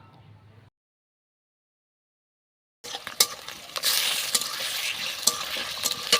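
Meat hits a hot pan and fries with a loud, steady sizzle and some stirring clatter, preceded by a brief quiet stretch.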